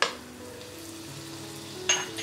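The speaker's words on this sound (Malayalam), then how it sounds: "പാൻ ചൂടാകുമ്പോൾ ഇതിലേക്ക് നമുക്ക് കുറച്ച് ബട്ടർ ഇട്ട് കൊടുക്കാം" Butter sizzles in a hot non-stick pan while making masala bread toast, a faint, steady frying hiss broken by a brief clatter near the end.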